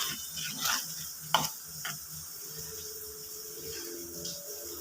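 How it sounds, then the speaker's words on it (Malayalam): Prawn curry with ground roasted coconut paste being stirred in a pot: a soft, close scraping and swishing with a gentle sizzle underneath and a few sharp utensil knocks against the pot. "ഇളക്കി കൊടുക്കാം"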